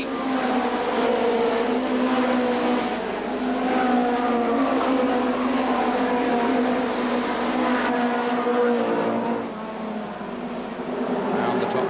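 Spedeweekend race cars at a 1993 oval meeting roar steadily past a trackside camera position, a continuous loud engine drone with slight dips and swells as the pack passes, with no talk in the clip.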